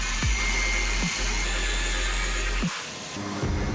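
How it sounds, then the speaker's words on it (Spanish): An angle grinder cuts iron claw pieces off an alternator rotor turning on a precision lathe, giving a loud, steady high whine with a few brief dips in pitch as the cut loads up, and no speech. "con una amoladora angular cortaremos todas esas piezas de hierro en forma de colmillos"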